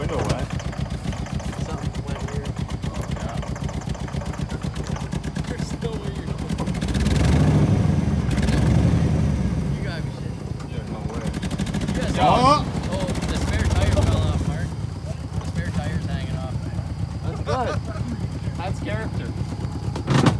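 A crashed Ford F150 pickup truck's engine keeps running after a jump crash, a steady mid-pitched idle with a couple of revving swells, heard under excited voices talking throughout.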